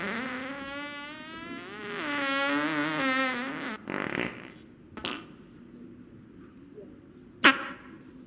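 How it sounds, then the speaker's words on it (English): A long, wavering, buzzy fart drags on for a couple of seconds, followed by a few shorter sputters and a sharp pop near the end. "Was that a fart?"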